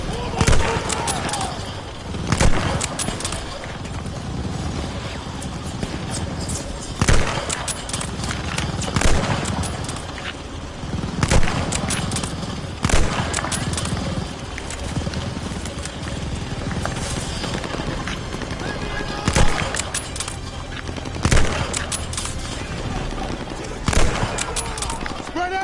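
Machine gun fire in the WWII shooter Call of Duty: Vanguard during a campaign battle, with repeated bursts and sharp reports over a steady din of combat, while soldiers shout orders.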